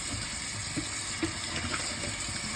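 Strong flow of water rushes steadily, a continuous hissing, splashing stream heard close by with no talk over it.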